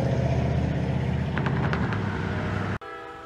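A train passing a railroad crossing, loud and close with a rumbling roll and rising horn-like tones, cutting off abruptly near the end.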